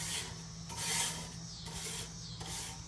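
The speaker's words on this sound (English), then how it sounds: "go ahead and scrape it down just a little bit" A metal grill grate being scraped clean before cooking a rib-eye, several short, rasping back-and-forth strokes, close and fairly quiet, with no talk.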